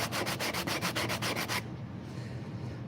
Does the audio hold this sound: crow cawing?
no